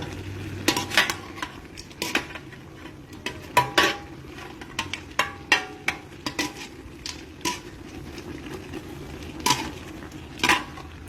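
A utensil stirs and scrapes chicken meat in a metal pot to break it apart, giving repeated clanking knocks at an uneven rhythm, close and fairly loud, with no talking.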